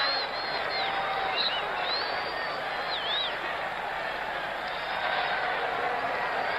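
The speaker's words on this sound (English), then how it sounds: "Well, that's cheered up the crowd in Philadelphia." A large stadium crowd in Philadelphia roars and whistles after America scores against England in a 1976 soccer match, a sustained distant cheer with scattered high whistles throughout.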